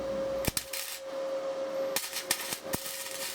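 Muffler hangers being tack welded onto an exhaust muffler: short, sharp crackling bursts, a pair early and then a quick cluster near the end, over a steady low hum.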